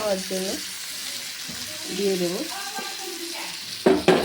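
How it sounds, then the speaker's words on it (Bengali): Potatoes and tomatoes with salt fry in spices for a vegetarian paneer curry, giving a soft continuous sizzle with stirring, a voice talking over it and a couple of sharp clatters at the end. "টমেটো দিয়ে একটু লবণ দিয়ে দেবো আর একটু ভালো করে কষাবো"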